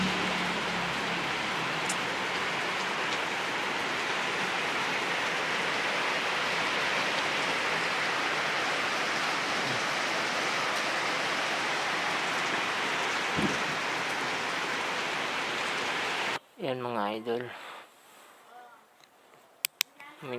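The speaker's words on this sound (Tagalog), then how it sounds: "Ang lakas ng ulan." Heavy rain pours down in a dense, steady roar for most of the clip, then cuts off abruptly, leaving quieter sounds and a voice; a downpour in Zamboanga, Philippines.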